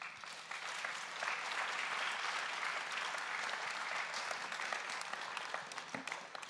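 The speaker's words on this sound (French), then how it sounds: "Je crois qu'on peut les applaudir." Audience at a conference on AI and health prevention gives steady, even applause, a dense wash of clapping heard from a moderate distance without talk.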